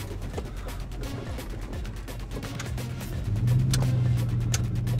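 Low, steady rumble from a Lexus GX470 with a straight-pipe exhaust, heard from inside the cabin while driving, swelling a little louder toward the end with road noise around it.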